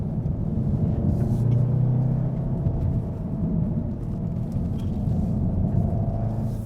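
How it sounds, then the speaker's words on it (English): A 2015 Volkswagen Golf R in race mode drives through a series of corners, its engine a steady low rumble with some road noise heard from inside the cabin, rising briefly early on, with no talking. "now we drive a section where we have really lots of corners. So I put it on race mode"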